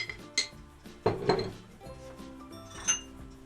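A heaped tablespoon of wheat or corn starch is added to a dish for a no-bake cake, with a few sharp clinks of a metal spoon against the dish, a louder cluster of knocks near the middle.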